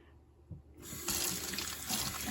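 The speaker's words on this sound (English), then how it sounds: "off to the sink to rinse my hands" Running water from a sink faucet as hands are rinsed, a steady close gush that swells in after a quiet start and continues without talk.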